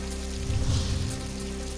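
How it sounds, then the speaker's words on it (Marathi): Heavy monsoon rain pours down over rural Maharashtra, a dense, continuous hiss of drops hitting surfaces with a slight swell midway, steady and alone. "पळसखेड, भट या भागामध्ये मुसळधार पाऊस"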